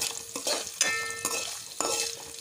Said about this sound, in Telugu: ఇది అయితే కొంచెం మనకి బ్రౌనిష్ కలర్ వచ్చే వరకు అయితే వేయించుకోవాలండి.